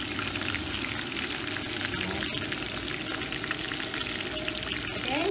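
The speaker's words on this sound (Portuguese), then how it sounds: "Então o peixe tem que fritar aqui fora, ó." Fish fries in oil on a high-pressure outdoor stove, giving a loud, continuous sizzle and crackle close to the microphone with no break.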